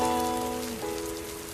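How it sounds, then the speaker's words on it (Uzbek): Steady rain falls on surfaces as a dense, even hiss, with soft melodic music playing over it throughout. "Nima endi yomg'ir yog'yaptimi?"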